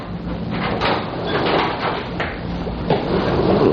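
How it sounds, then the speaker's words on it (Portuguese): A door opened in an old Brazilian radio mystery drama, a few dull wooden knocks and shuffles under constant hiss from the worn recording. "Podem abrir a porta."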